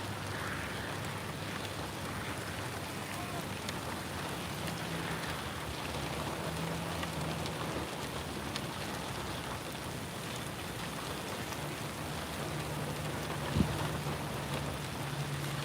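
Steady rain hisses across the SpaceX Starbase launch site at Boca Chica, Texas, on a windy morning, a constant wash of drops with low wind rumble underneath and one brief knock near the end.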